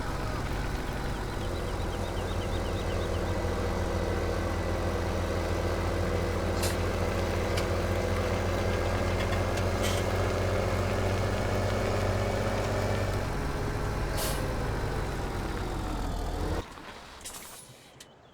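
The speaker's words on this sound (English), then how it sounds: "Get this tractor here and get it going" A farm tractor engine runs in a loud, steady, close drone with a low rumbling hum, unbroken for most of the time before it abruptly drops away near the end.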